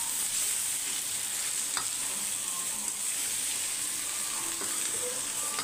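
Peeled, part-boiled potatoes frying with ground spice powder for Chettinad potato fry, a constant close sizzle with occasional light stirring scrapes.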